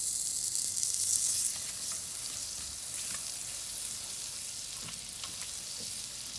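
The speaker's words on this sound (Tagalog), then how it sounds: "Tunawin po natin ng mabuti yung butter." Butter melts in a hot pot for garlic salted shrimp, giving a steady, close crackling sizzle that eases slightly after the first second and continues on its own.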